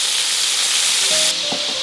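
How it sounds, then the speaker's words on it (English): A Wagyu burger patty sizzles loudly in a hot pan, a steady bright hiss of frying fat with a brief sharper crackle near the end, heard alone and up close. "as this starts to sizzle already"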